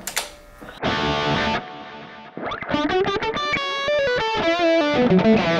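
Distorted electric guitar through a Kemper Mesa/Boogie John Petrucci JP2C preset with only delay on: loud chords first, then a fast run of single notes whose repeats blur together, alone with no talk.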